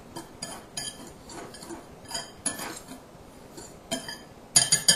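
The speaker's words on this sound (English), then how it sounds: "And I'll stir in 1/2 teaspoon of ground cinnamon." Ground cinnamon being stirred into a streusel topping in a bowl, a spoon clinking and scraping against the sides in an irregular rhythm, close up with light taps and a quick cluster of sharper clinks at the end.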